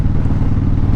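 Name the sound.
vehicle engine driving up a hill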